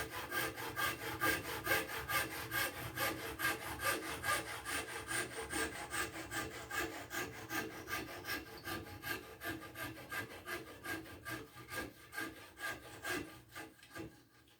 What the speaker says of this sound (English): careful when you're sawing these